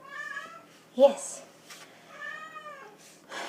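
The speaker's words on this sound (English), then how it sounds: "We have the insistent kitty back again." A pet cat meows insistently in a home kitchen, several drawn-out meows close to the microphone, with a brief spoken word cutting in between them.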